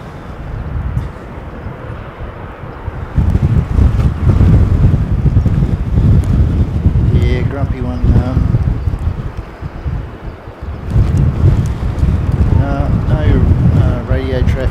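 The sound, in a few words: wind blowing across the microphone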